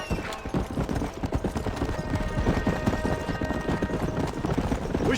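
Galloping horse hooves in the video game Red Dead Redemption, a loud, continuous drumming of rapid hoofbeats up close, with a faint voice briefly heard.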